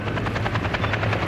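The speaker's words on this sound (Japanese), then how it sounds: "対戦車ヘリコプターが警戒・援護します。" During a live-fire military exercise at Fuji, an anti-tank attack helicopter passes overhead with a loud, steady rotor chop over a continuous engine roar.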